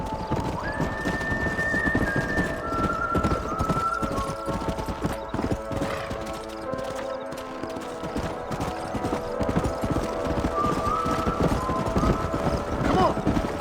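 Horses gallop in the Red Dead Redemption video game, steady hoofbeats drumming loudly under a constant musical score, with a whinny near the start.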